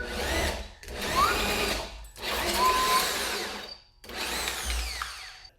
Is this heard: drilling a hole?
yes